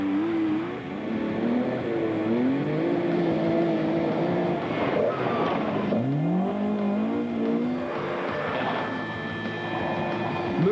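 A Porsche rally car is driven hard on a special stage of the 2000 London to Sydney Marathon Rally, its engine loud and close, revving up and down in repeated rising and falling sweeps through gear changes.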